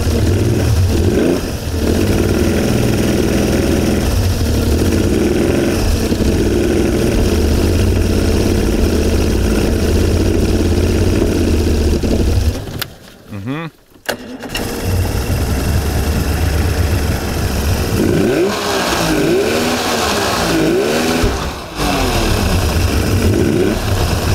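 A Suzuki DT55 outboard motor runs in gear and struggles, a loud steady engine drone that briefly cuts out and sputters midway, then picks back up with uneven revving.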